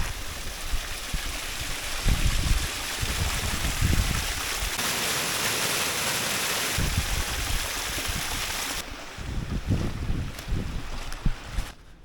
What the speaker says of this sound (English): And there's a little waterfall.